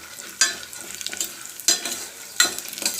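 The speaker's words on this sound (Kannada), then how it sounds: "ಈಗ ನಾನು ಸ್ವಲ್ಪ ಹೊತ್ತು ಫ್ರೈ ಮಾಡ್ಕೊತೀನಿ." Chana dal frying in oil in a pan, with a steady soft sizzle broken by three sharp spatula scrapes spaced about a second apart, close and clear, with no talking.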